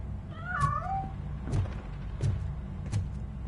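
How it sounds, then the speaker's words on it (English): A cat meows several times inside a piano, with a clear rising-falling cry near the start followed by a few short, sharp knocks or thumps, close and fairly loud. "That cat must be hiding inside."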